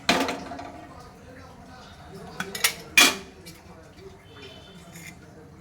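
A metal kadai set down on a kitchen stove while making a Rayalaseema-style okra fry, giving a couple of close clanks and knocks amid light kitchen clatter, with a voice speaking over it.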